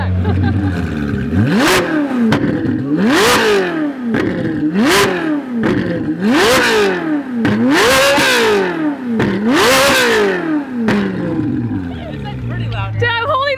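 Rebuilt Ferrari 458 engine revving hard over and over, about seven loud rising-and-falling throttle blips close by, with people shouting and talking in between.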